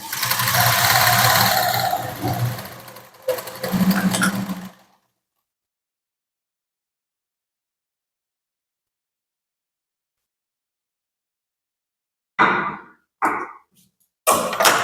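A sewing machine stitches the fitting line of a katori blouse in close, loud whirring runs at the start, stops into a long silence, then returns in short stitching bursts near the end.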